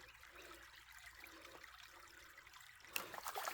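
Water sloshing and trickling in a gold pan while panning a creek, a soft steady wash with a brief louder splash near the end.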